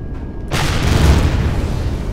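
A gun turret fires a single heavy shot in the space survival game Empyrion, a sudden booming blast after a quiet lead-in, followed by a rumbling explosion tail that fills the rest of the moment.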